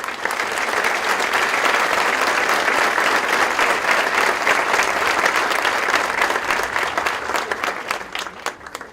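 A university hall audience applauds a guest speaker in sustained, dense clapping that holds steady and loud for about nine seconds before thinning slightly at the end.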